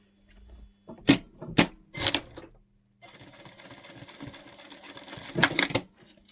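A domestic sewing machine topstitches a fabric pouch, with a few short clattering bursts followed by a longer steady run of rapid stitching that stops abruptly.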